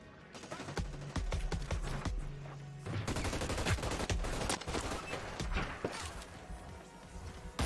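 Gunfire in the game Hyperscape: rapid, sharp shots crack in quick bursts and scattered single reports, loud and close, with a few brief pauses between volleys.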